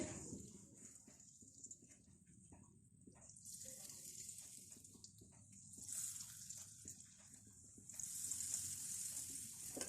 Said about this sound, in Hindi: हल्की आंच पे इनको फ्राई करेंगे।